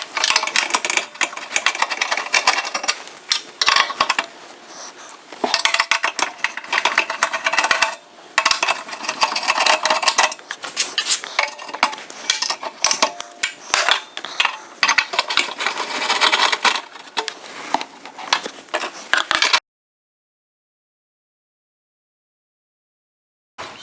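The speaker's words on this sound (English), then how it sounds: "we'll just take a few screws out here and it should come right out" Screws being backed out of a Suburban RV furnace burner assembly, a dense run of metallic clicks, scrapes and tool rattles close up, steady and busy for most of the span before falling silent near the end.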